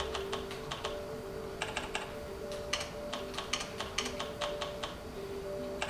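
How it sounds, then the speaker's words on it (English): Typing on a small Arctic K481 wireless keyboard from a couch, with a steady, faint patter of light key clicks in quick irregular bursts over a low room hum, and no talking. "I'm going to sit here on the couch and just start typing away."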